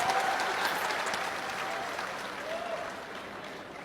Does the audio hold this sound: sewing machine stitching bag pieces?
no